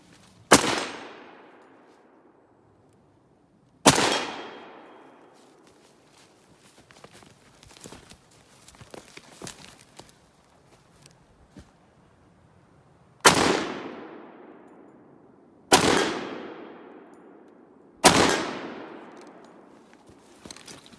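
Five loud, sharp rifle shots from a Gewehr 41, each with a long echoing decay and spaced several seconds apart, with faint handling noise in the quieter gaps.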